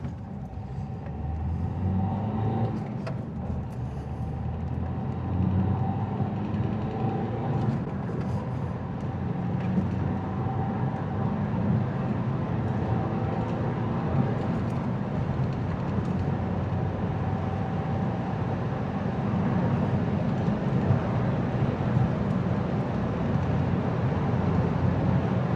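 A Vauxhall Astra H pulls in sport mode, heard from the cabin as a sustained low engine drone and road rumble that swells gradually through a long acceleration.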